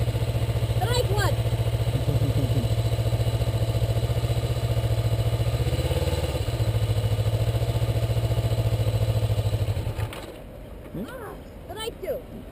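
A Kawasaki Ninja motorcycle idles loudly and close with a steady low engine drone and a slight rise in revs, then cuts off near the end while voices talk over it.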